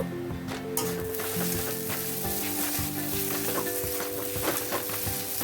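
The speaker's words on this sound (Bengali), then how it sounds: "এইবারে ভালো করে নাড়াচাড়া করব" Chili powder and turmeric being stirred into sabudana khichdi in a hot oiled pan, a steady close sizzle with scraping strokes of the spoon repeating throughout, no talking.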